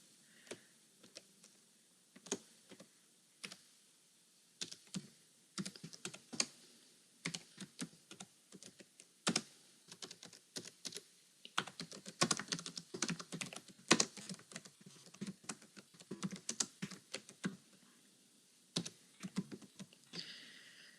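Keys tapped on a computer keyboard while typing a Python comment line, an irregular run of close, crisp clicks in bursts with short pauses, quiet background and no speech.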